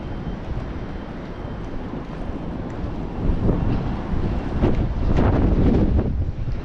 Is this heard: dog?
no